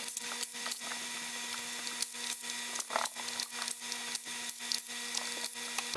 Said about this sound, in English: I'm going to pop off the control panel here